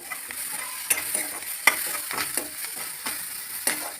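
Onions and green chillies fry in a pan over a medium flame, making a close, even sizzle dotted with small pops and crackles, with no voices.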